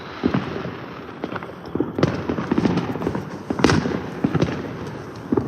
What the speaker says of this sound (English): It's going all popping like a mug over here in my neighborhood.